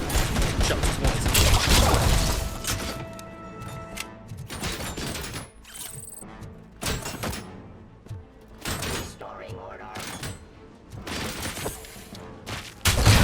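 Bursts of suppressing gunfire in the shooter game RoboCop: Rogue City, sharp loud volleys spaced irregularly among clanking mechanical sounds and game effects, with a voice talking over parts of it.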